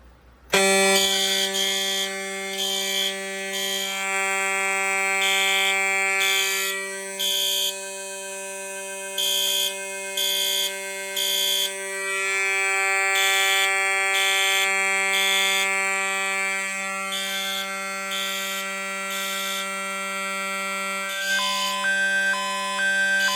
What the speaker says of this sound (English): the switch will activate and the alarms will sound